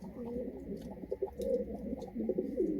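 Pigeons coo in low, throaty, repeated warbles, close by, with soft rustling and faint chirps in the background.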